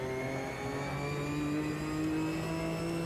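A racing car engine in the video game Automobilista 2 drones and climbs steadily in pitch, a continuous revving whine with no voices.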